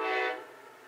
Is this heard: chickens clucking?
no